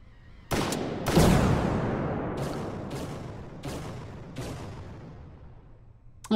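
Loud single gunshots ring out one after another in the VR shooter Hot Dogs, Horseshoes & Hand Grenades, about five or six sharp cracks spaced roughly a second apart, each trailing off in a long echoing decay.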